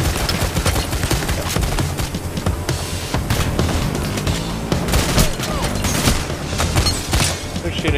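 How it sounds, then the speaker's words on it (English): Heavy gunfire in the heist game Payday The Heist, sustained overlapping shots and bursts at close range in a loud, chaotic firefight, with voices mixed in. "Shooting at us"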